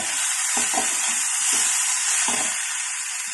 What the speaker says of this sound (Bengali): এটাকে নাড়াচাড়া করে এইভাবেই এইভাবেই এটাকে আমি নাড়াচাড়া করবো